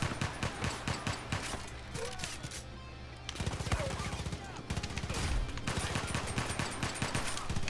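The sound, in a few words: gunfire in video game Far Cry Arcade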